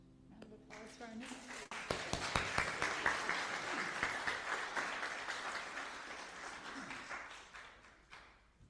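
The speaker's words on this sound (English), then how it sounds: "Round of applause for our new." A congregation at a worship service breaks into a full round of applause that swells quickly, holds as a dense wash of many hands and then gradually thins out.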